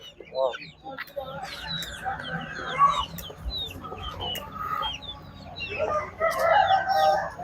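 Several roosters crow and hens cluck close by in a busy, noisy poultry market, with people talking in the background.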